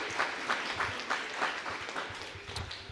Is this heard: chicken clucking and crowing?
no